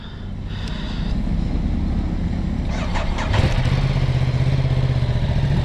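A Ducati Multistrada 950 motorcycle switched on, with a low electrical hum and a few clicks followed by the engine cranking and catching into a steady, close idle rumble.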